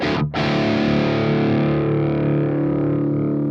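An electric guitar plays through the crunch channel of the ML Sound Lab AMPED Block Letter amp. A quick strum is followed by a single distorted chord that rings out and slowly decays, loud and close, with no voices.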